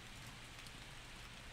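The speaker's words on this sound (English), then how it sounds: "I love rain in the game." Steady rain falling in the video game To the Moon, a faint, even hiss of drops pattering on surfaces with no other sounds.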